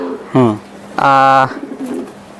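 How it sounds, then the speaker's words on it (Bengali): A foreign racing pigeon coos twice up close, a short throaty burst then a longer resonant coo, followed by faint softer cooing and rustle. "এ হচ্ছে একটা বিদেশি কবুতর"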